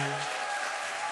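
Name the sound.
church congregation applause welcoming new members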